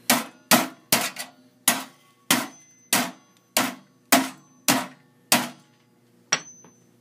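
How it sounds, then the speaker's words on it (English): A hammer repeatedly striking a metal PC case to enlarge a hole: about a dozen sharp, ringing metallic bangs at a steady, roughly half-second rhythm, close and loud, with a pause before the last blow. "Simply just take a hammer."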